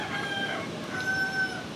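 A rooster crows once, moderately distant and fairly quiet, its drawn-out call rising over steady outdoor background noise, with no voices present.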